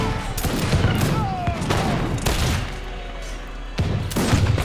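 Legion Piranha grenades and musket gunfire during a match of Age of Empires 3 Wars of Liberty: a loud, ragged volley of overlapping shots and blasts with several sharp cracks and dull booms.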